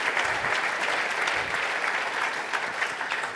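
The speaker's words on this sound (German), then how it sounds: "also mal eben Applaus hier" A church gathering breaks into sustained applause for missionaries marking ten years in the Philippines, with a steady wash of many hands clapping at moderate volume and no voices over it.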